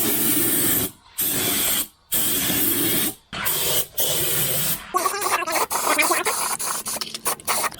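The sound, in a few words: spraying rust converter on Land Rover Discovery metal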